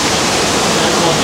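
A steady, loud rush of falling water roars without a break, broadband and constant like a waterfall close by, heard from a Jungle Cruise boat ride at Magic Kingdom.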